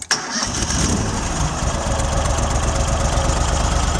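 An Amtex Marine 4047 outboard engine cranks briefly, then catches and runs steadily at a loud, rough mid-pitched idle, close by with no talking.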